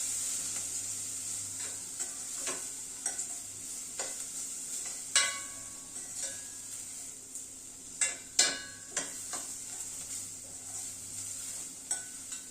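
Cumin seeds, whole garam masala and coriander seeds fry in hot oil for a dhaba-style veg Kolhapuri, a steady quiet sizzle punctuated by repeated sharp clinks and scrapes of a spoon stirring against the pan.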